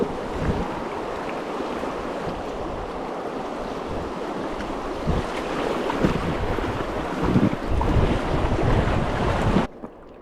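Rushing water of river rapids surges around a packraft in Montana, a continuous broad roar with splashes and wind buffeting the microphone, growing louder toward the end before cutting off abruptly.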